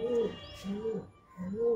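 A pigeon coos softly in three short, evenly spaced low calls, close by and fairly quiet.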